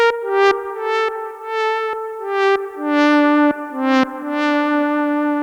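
Vintage Moog Model D analog synth playing a Shine On patch: sustained rich harmonic chords shifting step by step, each change marked by a sharp click, loud and alone with no voices.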